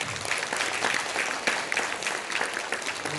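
A seated audience at a Korean local-government regulatory innovation workshop claps after a presentation, dense steady applause filling the room without a break.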